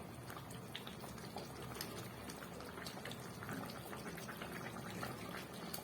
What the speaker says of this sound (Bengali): আর 1 মিনিটের মতো ফুটিয়ে নেবো